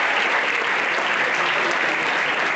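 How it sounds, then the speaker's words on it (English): A university convocation audience breaks into dense, even applause, a loud continuous wash of clapping with no voices over it. "Please put your hands together for UNIBEN"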